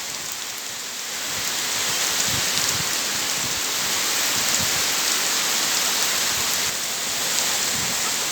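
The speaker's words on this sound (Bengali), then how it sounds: "প্রচণ্ড বৃষ্টি মুসলধারে বৃষ্টি হচ্ছে" Heavy monsoon rain pouring down steadily around a rural house, a dense close hiss with occasional low thumps of drops, no voices.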